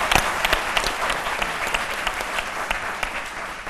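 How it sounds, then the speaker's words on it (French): A television studio audience applauds a film director, dense steady clapping from many hands with a few sharper claps standing out near the start. "Il faut l'applaudir."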